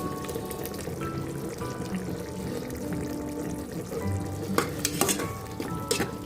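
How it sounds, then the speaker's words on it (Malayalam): Yogurt goes into a sizzling mushroom biryani masala and gets stirred, a loud, steady fry with scraping spoon strokes and a few sharp clatters of utensil against pan toward the end. "ഇതിലേക്ക് ഒരു 1/4 കപ്പ് തൈരും കൂടി ചേർത്ത് കൊടുക്കണേ."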